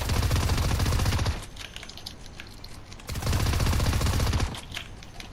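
Gunfire in Fortnite, chapter 2 season 2: two long, loud bursts of rapid automatic shots, separated by a quieter pause of about two seconds, with no talking.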